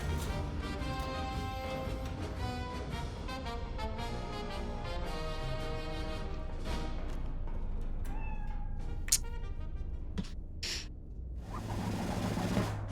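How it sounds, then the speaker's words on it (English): A cat meows in the video game Iron Nest, giving several drawn-out, tonal meows over a steady bed of game sound, with a few sharp clanks and clicks toward the end. "cat adds so much to the game."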